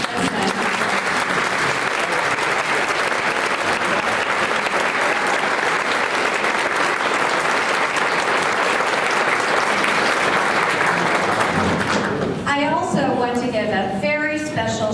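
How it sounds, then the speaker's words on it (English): Audience clapping for prior-year honorees at the 2022 LGBTQ Legacy Leader Awards, a full, steady round of applause lasting most of the time before a voice begins speaking. "I see they're clapping"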